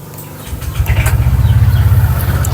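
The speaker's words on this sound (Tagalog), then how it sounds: "Ito yung tunog ng TSMP Silent Killer version 1 for Click 125." A Honda Click 125 scooter fitted with a TSMP Silent Killer version 1 exhaust fires up after a brief quiet moment, then settles into a loud, close, steady idle with an even pulsing throb.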